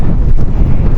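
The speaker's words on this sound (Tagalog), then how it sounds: "Buti na lang mahangin mga kaibig." Strong wind on a mountain at Mount Brigino buffets the microphone with a loud, low rumbling roar throughout the short moment.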